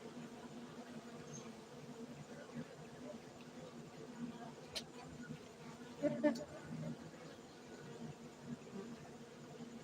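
Honey bees buzzing at a honey bee centre in Gayo, Aceh, Indonesia, a faint steady hum of insects with a few brief louder passes, under quiet background voices.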